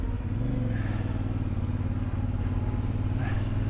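A motorcycle engine drones steadily at close range, heard from a rider cruising on a CF Moto Ibex 450 amid construction traffic, with a faint rise as another rider passes. No one speaks.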